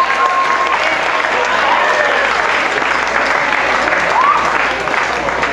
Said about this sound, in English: Please give these kids a round of applause one more time for such a great week